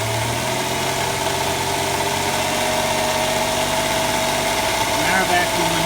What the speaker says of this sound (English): We'll run this up in RPM.